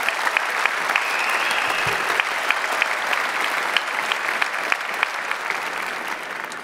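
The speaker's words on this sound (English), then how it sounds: "Could we have a very big round of applause as thank you." Big round of applause from a livestream event audience in the Netherlands, dense sustained clapping at even loudness throughout with scattered sharper claps on top.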